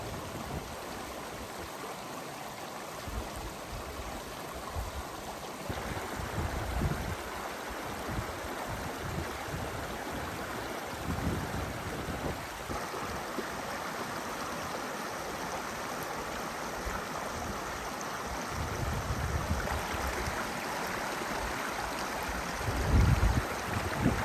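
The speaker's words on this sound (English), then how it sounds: "We're here at a creek crossing." Creek water flows steadily over rocks at a hiking-trail crossing in a spruce canyon, a broad continuous rushing wash close by, with a slight swell in volume near the end and no talking.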